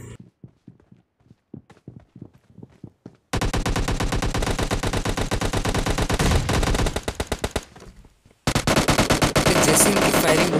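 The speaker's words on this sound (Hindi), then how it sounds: "यहाँ पे उनकी जो फायरिंग है वो चल ही रही थी" Rapid automatic gunfire in the PUBG Lite mobile battle royale game: sparse single shots and footsteps at first, then long sustained bursts of loud, dense firing with a brief pause before another volley.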